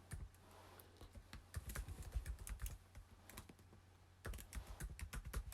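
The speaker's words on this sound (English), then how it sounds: "So then you just type in what you'd like it to say." Quick bursts of computer keyboard typing, close and clear, with a pause in the middle before another run of rapid keystrokes.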